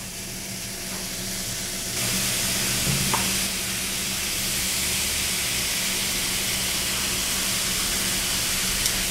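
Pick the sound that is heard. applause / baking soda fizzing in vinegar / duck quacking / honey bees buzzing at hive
baking soda fizzing in vinegar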